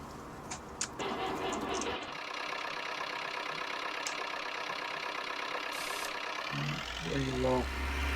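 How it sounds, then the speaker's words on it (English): A farm tractor engine runs at a steady idle, a continuous mid-pitched chug close by, with a sharp clatter near the start and a voice talking over it toward the end. "That tractor's fine, that tractor's fine."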